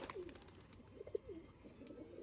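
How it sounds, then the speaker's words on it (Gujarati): Pigeons being fed grain at a new harbour in Bhavnagar give a few soft, low coos close by over steady background noise, with one brief louder call near the middle. "થોડુંક ચણ ખવરાવું જો કબૂતરને"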